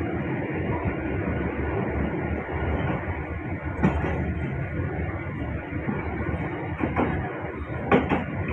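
A Kamandaka passenger train between Tegal and Prupuk in Java, Indonesia, rumbling steadily along the rails, a continuous loud roar with occasional metallic clicks and faint squeals from the wheels.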